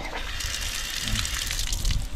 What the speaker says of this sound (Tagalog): May gripo dito. Galing sa bundok ang tubig.